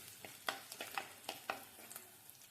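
Fish curry ingredients, ginger and garlic, being sautéed and stirred in a pan, with a soft sizzle under a run of irregular spoon scrapes and clinks, close and fairly quiet.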